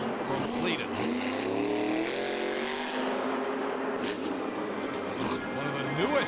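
A Monster Jam monster truck roars through a run inside Ford Field in Detroit, its engine revving and shifting pitch continuously with a loud, dense arena roar, while an announcer talks over it.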